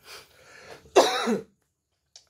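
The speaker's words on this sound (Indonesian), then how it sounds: "Maaf ya, lagi batuk." One person gives a short throaty cough, a couple of rough bursts up close and loud, then a faint small noise, with no talk around it.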